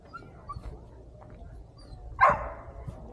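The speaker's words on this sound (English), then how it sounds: "Lots of dogs." Dogs at an outdoor gathering of vans: a faint whimper or yip early on, then a single short, fairly close bark stands out over quiet background murmur.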